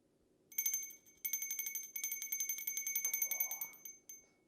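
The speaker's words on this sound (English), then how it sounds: "we of course need a better bell ring" A bell rings in rapid, trilling bursts, bright and metallic, stopping briefly before a longer sustained ring that trails off into a final strike.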